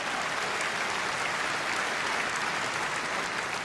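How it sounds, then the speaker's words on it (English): A large audience at a Reform party political conference claps in steady, sustained applause, a dense even patter of many hands with no voices on top. "Please put your hands together and thank Martin Green"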